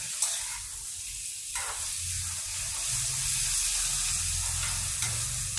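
Brinjal curry sizzling and frying in a pan, a steady hiss with occasional stirring clinks and scrapes, close and moderately loud, no talk.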